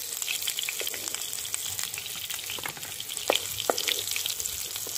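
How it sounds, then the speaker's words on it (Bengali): Paneer pieces frying in hot oil, a close continuous crackling sizzle with sharp spitting pops scattered through it, steady and fairly loud. "এবার একটা করে পনির আমি এরকম করে বসিয়ে দেবো। দেখুন এরকম করে ভাজতে হবে।"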